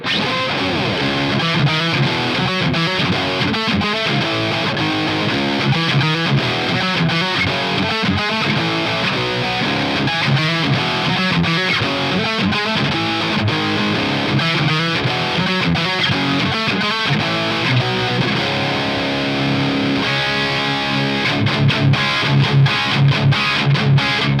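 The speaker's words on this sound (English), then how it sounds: "I've got an ENGL SAVAGE 120 Mark II and it sounds like this." Heavily distorted electric guitar through an ENGL Savage 120 Mark II amp plays loud, chugging riffs with rhythmic palm-muted stabs, ending in a burst of choppy staccato hits and sustained chords, with no talk.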